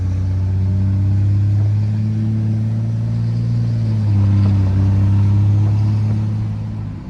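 Inside a diesel truck with a 4th gen Cummins swap, a deep steady engine rumble builds under acceleration, drops briefly near the middle, then swells again before fading at the end.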